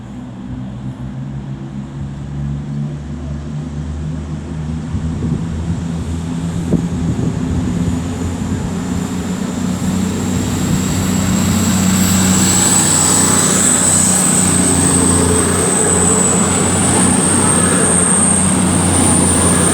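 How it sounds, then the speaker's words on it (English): Class 221 diesel unit 221132 on a CrossCountry service to Manchester Piccadilly departing Stafford on the West Coast Main Line, its engine throbbing low and building steadily louder, with a rising high whine as it pulls away. "now getting ready to depart is going to be 221132, I believe it was. Working the 1703 cross-country service to Manchester Piccadilly"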